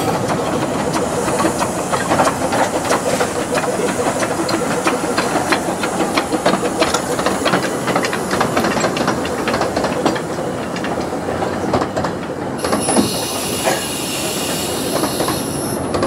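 Steam locomotive Northern Rock on the Ravenglass & Eskdale Railway pulls into Dalegarth station, a steady broadband rumble of rolling wagons with hissing steam and wheel squeal, a sharp high hiss rising near the end.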